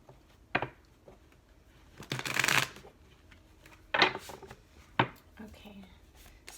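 Tarot cards being shuffled in several separate bursts, a short snap, a longer rustling riffle, then two more quick shuffles, close and fairly quiet, with brief pauses between.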